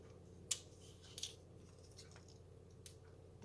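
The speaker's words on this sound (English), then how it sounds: "I just cut thin strips." A few quiet, crisp snips of scissors cutting thin paper strips for a handmade card, two or three short isolated cuts over a faint steady background hum.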